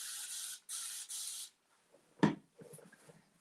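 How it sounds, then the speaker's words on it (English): Three short, crisp hisses come from a hand spray bottle misting water onto a paintbrush before acrylic painting, followed by a soft thud and faint rustling. "I will spray my brush first."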